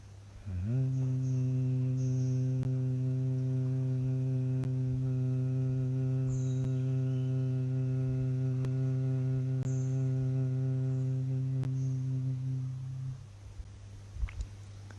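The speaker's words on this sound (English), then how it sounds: "Smooth hum sound on the exhale." A steady, smooth nasal hum on a long exhale during a guided breathing exercise, one sustained low tone lasting around twelve seconds, close and even, then fading into quiet breath.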